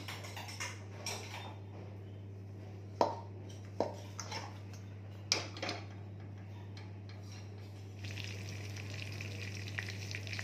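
A tempering frying in a pan on the stove, a quiet hiss with sharp occasional pops and ticks over a steady low hum, growing somewhat fuller near the end, no talk.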